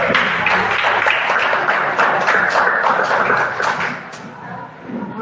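A church congregation claps together during a worship service, a dense continuous patter of many hands that fades slightly near the end while a voice speaks over it.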